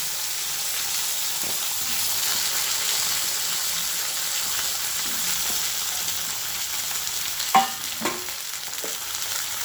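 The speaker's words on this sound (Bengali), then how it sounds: "এবার আমি দিয়ে দেব কেটে রাখা শিমগুলোকে দু অর্ধেক করে কেটে রেখেছি। দিয়ে দিচ্ছি কেটে রাখা শিম।" Cut flat beans fry in hot oil in a karahi with a steady close sizzle, a few soft stirring taps and two sharper clanks near the end, with no voices.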